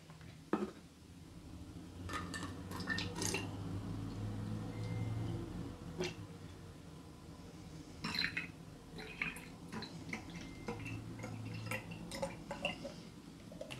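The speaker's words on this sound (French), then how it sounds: "On va déjà y mettre donc la moitié de notre récipient en eau." Water poured into a container while making honey syrup, a steady liquid trickle with intermittent splashes, drips and light clinks of kitchenware, close and moderately quiet.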